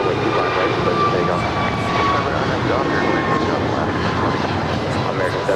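An Avianca Airbus A319 jet airliner landing at LAX gives a loud, steady broadband roar that fills the whole stretch without easing, with faint high whines riding on top.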